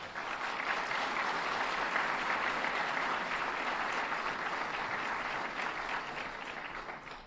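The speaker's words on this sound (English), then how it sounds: "Let's give them a round of applause." A conference audience applauds in Nashville, steady dense clapping heard from a distance at a fairly soft level, holding evenly before tapering slightly at the end.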